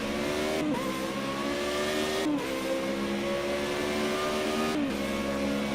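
A race car in Project Cars 2 revs hard through its gears, the engine note climbing and then dropping at each of three quick upshifts, with a constant loud whine and tyre rumble close up.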